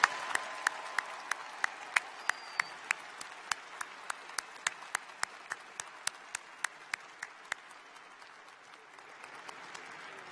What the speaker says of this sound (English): A round of applause for all of our graduates.